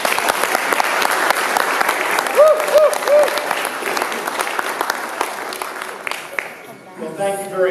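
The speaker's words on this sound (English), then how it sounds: "please join me in a round of applause for our moderator, Regent University's very own, Professor Bra" A debate audience applauds for the moderator, a sustained, dense round of clapping that fills the room and fades slightly near the end.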